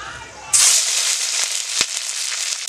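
Whole garam masala spices drop into hot oil and burst into a sudden loud sizzle that holds steady, with a single sharp pop partway through.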